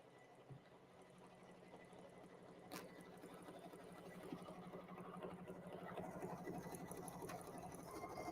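An embroidery machine stitches lace for the front of a handmade Christmas card, a steady fast mechanical whir with rapid needle ticking, close by and fairly quiet, growing slightly louder over the stretch.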